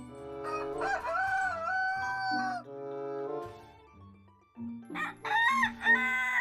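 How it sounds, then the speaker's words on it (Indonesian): A rooster in an animal-cleaning video game lets out two long, loud crows, the second following a short pause, with a steady musical backing underneath. "Wow, ini ayam."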